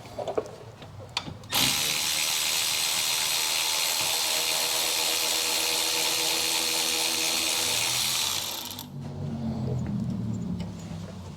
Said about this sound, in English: I'm going to use a power wrench on that.